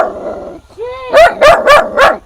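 A dog at a small house gives a rising whine followed by four loud, close barks in quick, even rhythm, with a low voice or background sound just before.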